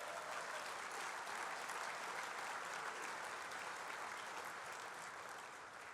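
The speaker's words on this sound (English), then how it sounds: "How about a big round of applause for Nick Hollowell?" A banquet audience applauds in a sustained, even burst of clapping that fills the room and holds steady before tapering slightly at the end.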